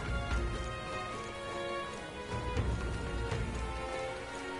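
Steady rain in the video game Metaphor patters on a surface, a soft continuous hiss with a few sharper drops, under a faint low drone.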